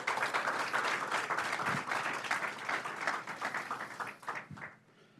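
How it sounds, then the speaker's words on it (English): Audience at a Chino city council meeting applauds a Brownie troop, a lively burst of clapping that gradually thins and fades toward the end. "Big round of applause, folks."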